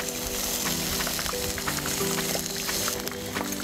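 Meat browns in a hot pan, giving a dense, steady sizzle and crackle with scattered pops, close and continuous throughout.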